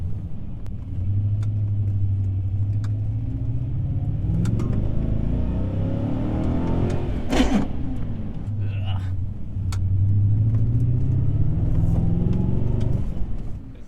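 A BMW 540i engine rumbles steadily as the car drives, rising and revving between gear changes, with a brief sharp noise midway and faint voices underneath; its second gear synchronizer is badly worn.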